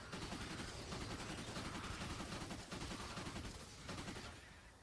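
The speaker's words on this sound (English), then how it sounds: "Now, the Pain Train is fully automatic, so I can just hold down left click or trigger if you're on controller, and you can just open fire." The Pain Train fully automatic assault rifle in Fortnite Save the World fires a sustained, dense burst of rapid shots, loud and close, with only a brief dip before tapering off near the end.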